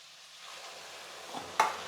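Water poured into a pan of sizzling tomatoes for rava khichdi: a soft steady frying hiss building slightly, then a sharp splash-like burst near the end as the water hits the hot pan.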